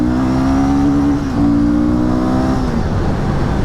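A Royal Enfield Guerrilla 450 motorcycle engine revs hard on a road ride in Punjab, its loud, close exhaust note climbing, dipping briefly near the middle, then rising again before easing off, with no talk over it.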